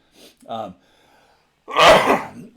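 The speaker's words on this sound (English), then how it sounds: "I'm going to sneeze, guys." A man gives one loud, close sneeze, preceded by a short throat sound and a pause, during an indoor talk about elk behavior.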